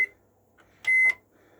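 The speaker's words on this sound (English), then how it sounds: "So that is the microwave operating." A microwave oven in a 2011 Sprite Musketeer caravan starts up with a short button beep followed by a louder, sustained tone of about a quarter second, then a low hum in a quiet interior.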